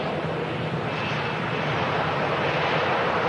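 An airliner decelerates on the runway after landing at Manchester Airport, heard as a steady, broad engine roar at moderate distance that holds level throughout with no talk.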